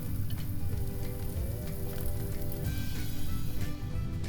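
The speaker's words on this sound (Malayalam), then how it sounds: "ഇതെല്ലാം കൂടി ഒന്ന് നന്നായിട്ട് വഴറ്റിയെടുക്കാം" Curry leaves and salt sautéing in a pan for a Kottayam-style red fish curry, a steady dense sizzle and crackle running throughout at moderate loudness, with faint scraping of stirring.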